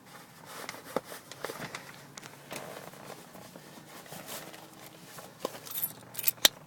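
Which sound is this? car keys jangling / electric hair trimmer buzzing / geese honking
car keys jangling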